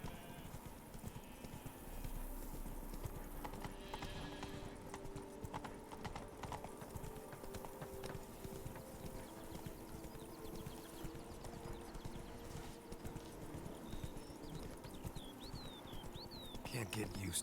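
Roach, Geralt's horse in The Witcher 3 game, clip-clopping steadily at a walk with a brief whinny, while voices talk over the hoofbeats.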